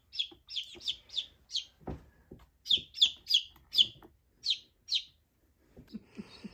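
Baby chicks chirp in quick, high-pitched bursts, several peeps in a row separated by short pauses, close by with faint clucking near the end.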